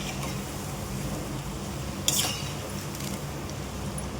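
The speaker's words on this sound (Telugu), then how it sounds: "ఇలా మధ్య మధ్యన కలబెట్టుకుంటూ ఉండాలి. కలబెట్టుకుంటుంటే మాడిపోకుండా ఉంటాయి." Spiny gourd fritters fry in a pan with a soft, steady sizzle. Midway a utensil gives a single clear metallic clink against the pan, followed by a few faint scraping touches.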